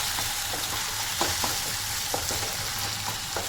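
Onion fries in a pan with a soft, even sizzle, close and fairly quiet, broken by a handful of light ticks and pops, with nobody talking.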